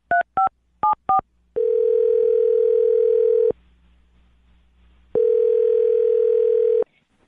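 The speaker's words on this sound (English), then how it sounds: "I'm going to dial his phone number right now" Four quick touch-tone beeps as a number is dialed, then two long ringback tones separated by a pause, clear and close.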